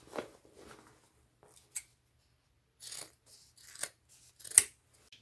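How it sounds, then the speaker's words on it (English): Scissors snip through the sewn corners of thrifted denim jeans, a few crisp separate cuts close to the stitch line, near and clear in a quiet room. "Now I can cut them off. I'm just going to stay close to my stitch line."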